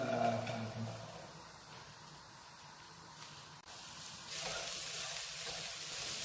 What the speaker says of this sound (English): Put 3 tablespoons of cooking oil and turn it to high heat and add the lady fingers.